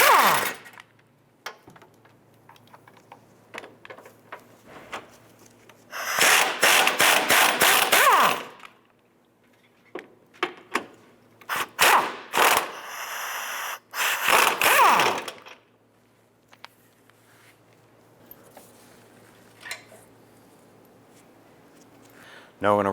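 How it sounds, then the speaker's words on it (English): A ratchet wrench clicks in bursts as three 15mm motor mount bolts are backed out of the chassis on a 2011-2019 Ford Fiesta, rapid metallic ratcheting alternating with quiet pauses and brief handling knocks. "I'm going to go ahead and remove the 3 15mm bolts holding the motor mount to the chassis."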